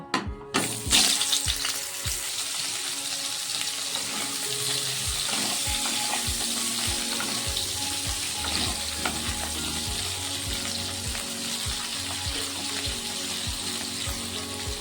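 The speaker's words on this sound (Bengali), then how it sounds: "এখন ফুলকপিটা ভেজে নেব।" Cauliflower frying in oil crackles loudly after an initial burst as it hits the pan, then settles into a steady sizzle with repeated scraping knocks as it is stirred, no speech.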